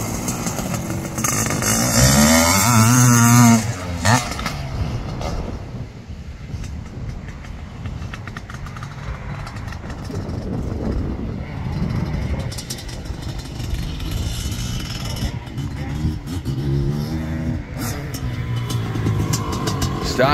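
A 500cc dirt bike engine revs hard nearby, rising and falling in throaty, raspy bursts that continue under the roar throughout.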